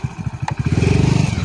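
A motorcycle engine on a rough road, loud and close, its rapid pulsing exhaust rising into a steady revving drone.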